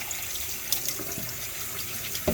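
Tap water runs steadily into a sink while a plant pot is rinsed out for a semi-hydro conversion, a continuous splashing hiss with a few small knocks and drips.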